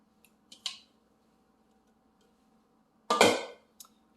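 Kitchen scissors snip twice, a short crisp cut followed by a longer, louder rasping cut after a quiet pause, close by in a quiet kitchen.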